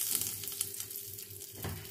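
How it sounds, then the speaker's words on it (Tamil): Mustard seeds crackle and pop in hot oil, a close, busy sizzling with brisk spluttering bursts throughout. "இது வந்து நல்லா வெடிச்சு பொரிஞ்சு வரட்டும்."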